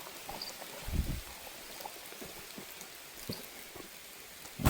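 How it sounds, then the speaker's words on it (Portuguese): Heavy, thick rain falls steadily on a jungle campsite at night, a dense constant patter with a few louder drops close by. "não tá parecendo chuva de molhar bobo não. Tá grossa, bicha."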